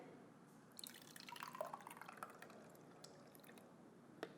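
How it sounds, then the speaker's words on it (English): Homemade liquid dish soap is poured into a soap container, a soft, quiet trickle with small drips and splashes over several seconds, close by and faint, with no talking. "So we're going to go ahead and just pour it right in."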